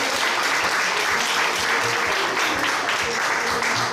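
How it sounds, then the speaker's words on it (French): An audience at an arts event applauds steadily, dense, even clapping that holds at full strength throughout. "Encore une fois, d'applaudissements."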